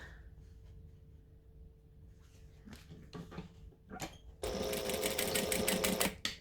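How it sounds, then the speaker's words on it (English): A domestic sewing machine stitches forward, then back stitches to lock a seam on a Liberty by Needle and Anchor garment: short bursts of whirring give way to a sustained, louder run of close mechanical stitching near the end. "I'm going to stitch and back stitch to lock those stitches in"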